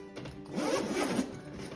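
A zipper on an ALS medical bag is pulled open in one smooth, close, moderately quiet rasp lasting about a second, with no talk over it.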